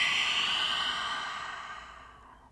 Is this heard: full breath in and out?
yes